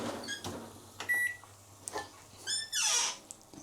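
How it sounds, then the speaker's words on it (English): Microwave oven running while heating chicken, with a few short tonal beeps and brief rising pops or hisses over a low steady hum, fairly quiet and close. "Whoa, chicken exploding in the microwave."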